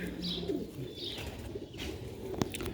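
A purebred Sialkoti pigeon gives soft, low coos in short bursts, faint and close, with light chirps and a brief wing flutter near the end, no talk.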